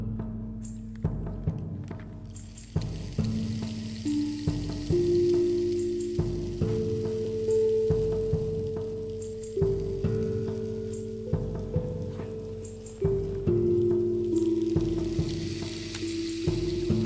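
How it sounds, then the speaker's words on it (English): A tongue drum plays slow, ringing melodic notes that step up and down in pitch and sustain into one another, set over a steady crackling, rain-like background texture. "Yes, the tongue drum. So this is what this sounds like."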